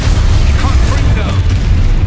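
A Confringo fire blast spell bursts in Hogwarts Legacy: a loud, booming explosion with a rumbling low end that fills the whole short moment, mixed with game effects.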